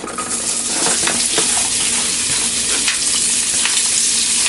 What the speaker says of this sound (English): we're going to add the shallots, and we're going to stir constantly until the butter is golden brown